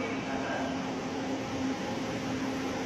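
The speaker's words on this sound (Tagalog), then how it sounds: "Pagdating ko sa taas, saktong may tren galing Recto." Metro train from Recto arriving at an elevated station in Manila, a steady rumble with a sustained tonal hum, close and continuous, with faint voices in the background.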